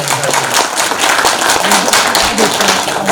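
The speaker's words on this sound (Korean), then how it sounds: "큰 박수로" Loud applause from an audience at an academic conference, irregular clapping that holds steady for about three seconds, with a voice faintly mixed in.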